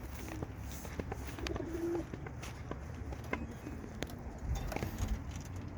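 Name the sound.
racing pigeons cooing on arrival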